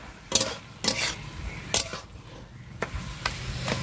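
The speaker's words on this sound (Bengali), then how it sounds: "নারকেল কোড়ার সাথে ভালো করে মিশিয়ে আমি হচ্ছে আবার কচু শাকটা নাড়তে থাকবো।" Taro greens and grated coconut are stirred in a pan, with a utensil knocking and scraping against the metal in irregular clacks every half second or so over a soft background hiss.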